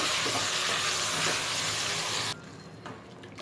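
Loud, dense sizzling of beef frying with garlic paste in a hot pan that suddenly drops to a much quieter crackle partway through.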